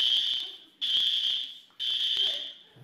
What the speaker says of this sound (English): ran out of their apartment at the sound of the fire alarm